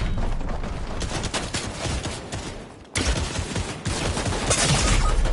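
Gunfire in the Fortnite video game, with rapid bursts of shots layered into a dense, loud fusillade that continues without a break for several seconds and has a sharp restart midway, with no voices.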